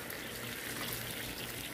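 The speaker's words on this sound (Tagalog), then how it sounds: "Magdagdag tayo ng isang basong tubig." Water is poured into a pot of pork adobo with potatoes. It makes a steady, quiet, close gushing splash that lasts the whole moment, with no talk over it.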